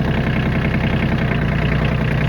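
A Kioti CK27 tractor engine runs in first gear while driving, a steady, loud, close low rumble with no change in pitch and no speech.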